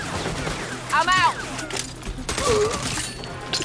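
Gunfire bursts in the 2022 Saints Row video game, loud rattling volleys with sharp hits and breaking sounds, mixed with brief vocal sounds from game characters.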